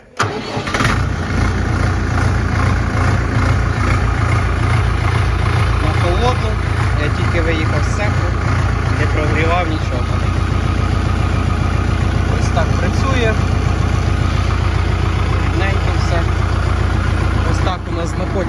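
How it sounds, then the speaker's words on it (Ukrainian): A DMTZ 544 minitractor engine, roughly 50 horsepower, starts in freezing weather and settles into a loud, steady, close diesel idle that runs throughout. "Заводиться трактор."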